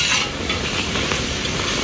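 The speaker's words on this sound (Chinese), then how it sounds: "把焯好水、泡好澡的豆虫下锅，炒干它的水分" Blanched bean worms stir-fried in a wok to cook off their moisture, a brief steady hiss and sizzle with faint scraping, close and continuous with no voices.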